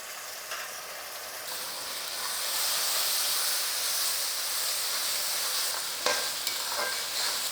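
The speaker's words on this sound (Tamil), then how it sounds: "தக்காளி நல்லா குழஞ்சி வர அளவுக்கு நல்லா வதக்கிக்கலாம்" Tomatoes with onion and ginger-garlic paste sauté in a pan for a prawn gravy, giving a steady close sizzle and hiss that swells midway, with a few sharp stirring scrapes near the end.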